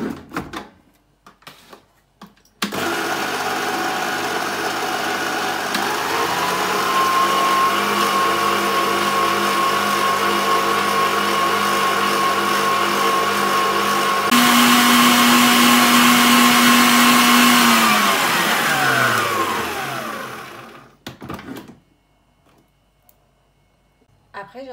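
Electric mixer whirring through mascarpone cake batter, a loud steady motor drone that shifts pitch midway as speed changes, then winds down and stops near the end.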